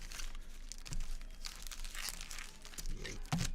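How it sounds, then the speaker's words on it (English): Sealed trading card packs shuffled by hand, soft crinkling and rustling of foil wrappers in quick repeated bursts, close and quiet. "We'll do a little pack shuffle here."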